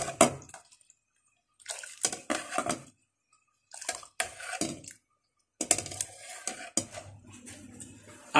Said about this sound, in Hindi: अब इसमें आपने चावल डाल देना है।